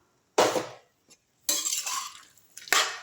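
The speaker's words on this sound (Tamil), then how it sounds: "கொஞ்சம் நல்லா கிண்டி விட்டு" Spoon stirring cauliflower thokku in a cooking pan: three separate scraping, clattering bursts of utensil against metal, close and fairly loud, with short silent gaps between them and no voices.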